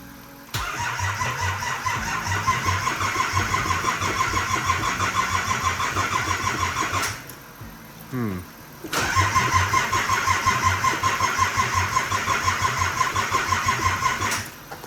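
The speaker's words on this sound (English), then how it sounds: "So I'll give it some gas when we start it, see if she'll start." Nissan C33 Laurel automatic car engine cranking and catching, running at a steady close idle for several seconds, cutting out, then cranking again and restarting into a loud, even idle.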